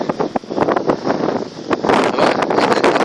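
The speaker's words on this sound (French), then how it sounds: "Il y a un peu de vent." Wind buffeting the microphone at the foot of Mont Béguin, a loud continuous rumbling gust with fluttering bursts that swell and ease throughout, no voices heard.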